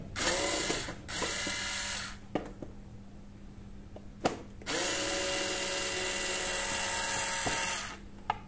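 A Black & Decker KC 4815 cordless screwdriver loosening a screw, its motor whirring close and loud in several runs with short stops and ratcheting clicks between.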